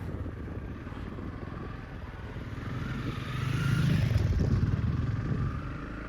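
Honda CRF 300 Rally motorcycle riding off from Anysberg toward Montagu, a steady low engine drone under strong wind rush that swells midway and then eases.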